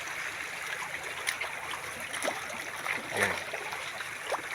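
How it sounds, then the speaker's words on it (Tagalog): A mountain stream flows and trickles steadily with broadband water hiss, its course recently shifted after a landslide; a few brief voices and knocks sit faintly over the running water. "yung sapa nandito, dito banda yan"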